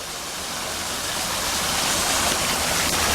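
A waterfall at Callahan's Lodge, where Pacific Crest Trail hikers camp near Ashland, roars as a dense, steady rush close by that swells slightly louder, with no voices.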